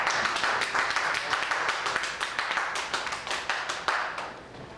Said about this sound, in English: Should I coax still more applause out of you for this wonderful thing?